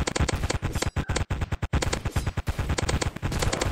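A toxic machine gun fires in rapid, continuous bursts in the Roblox game Zombie Attack, loud and close, with a few short breaks in the stream of shots.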